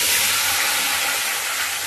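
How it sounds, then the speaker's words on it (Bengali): Okra hits hot oil in a pan with a loud, continuous hissing sizzle that stays strong and even throughout, heard up close with no talk. "এবার আমি এই যে ভেন্ডিটা একদম ঢেলে দেব"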